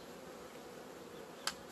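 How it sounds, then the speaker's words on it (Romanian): Honey bees from a young colony with a red queen hum steadily around an open hive, a soft continuous buzz at low level with one brief sharp tap near the end. "Albina este destul de liniștită, nu, acum nu este rea, da?"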